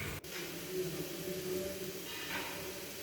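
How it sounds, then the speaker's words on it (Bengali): Poppy seed fritters (posto bora) frying in hot oil, giving a steady, fairly faint hiss and sizzle throughout with no talking. "বড়াটাকে আর একটু লাল করে ভাজবো"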